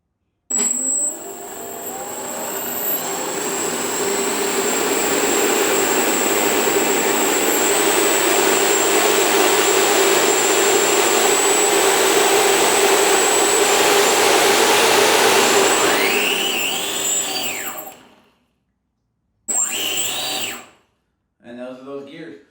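A DIY 3D-printed electric ducted fan turbine with gears and metal shafts, the StubbyV2, spins up at low RPM, giving a loud, steady whirring roar with a high whine for about seventeen seconds. It then cuts out, followed by a few short bursts.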